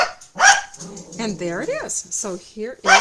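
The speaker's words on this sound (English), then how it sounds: "okay, my dog's gonna bark" A pet dog barks and yips repeatedly close by, the barks mixed with someone talking indoors.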